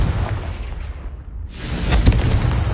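A Confringo spell explosion in Hogwarts Legacy, a sudden loud burst midway with a deep rumbling boom that lingers to the end.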